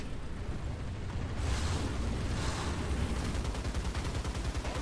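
Tank shells burst during a War Thunder battle, a run of muffled, rumbling explosions and booms layered into a continuous low din, fairly quiet and with no talk.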